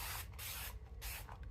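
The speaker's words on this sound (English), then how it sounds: "Let's spray this down a little bit." A spray bottle misting cotton print fabric in quick bursts, a few close, crisp hisses separated by short pauses.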